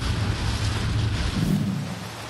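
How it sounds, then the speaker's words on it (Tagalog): Heavy rain and gusting wind during a typhoon in Samar, a dense continuous roar with a low rumble of wind buffeting the microphone, loud and steady throughout. "walang patid na pagbuhos ng malakas na ulan ang sumalubong sa amin. Sinasabayan pa yan ng mga hampas ng hangin."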